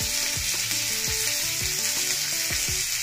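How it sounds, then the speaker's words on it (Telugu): Korrameenu (murrel fish) pieces coated in spices fry steadily in hot oil, a continuous close sizzle broken by repeated sharp clinks and scrapes as the pieces are turned, with no voices. "ఈ ముక్క మనకి ఫ్రై అయ్యేదాకా ఈ విధంగా టర్న్ చేసుకుంటూ"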